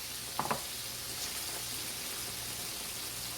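Country fried steak frying in a pan, a steady close hiss and crackle throughout, with a couple of brief clinks near the start and no talk.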